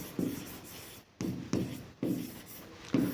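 Pen scratching across a board during a classroom lesson, several short quick strokes in bursts with brief pauses between them, close and clear with no voice over it.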